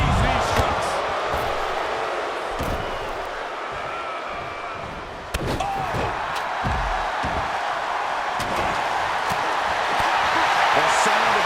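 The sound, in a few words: crowd cheering at wrestling match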